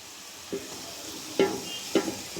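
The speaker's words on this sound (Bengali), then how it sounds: "তো এ পর্যায়ে আমি চাউলটা দিয়ে দিলাম" Rice goes into a pan of fried vegetables amid a soft frying sizzle, with three distinct thuds and scrapes as it drops in and is turned.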